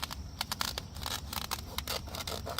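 Scissors snip through Vevor weed barrier fabric in a garden, giving a run of close, crisp cutting and tearing crunches in irregular bursts, with a faint low rumble underneath.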